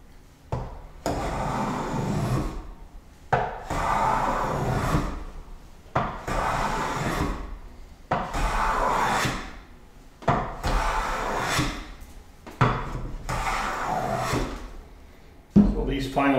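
A hand plane is pushed along the edge of a wooden board in about seven rhythmic, evenly spaced strokes, each a close swish of shaving wood, while someone talks over parts of it.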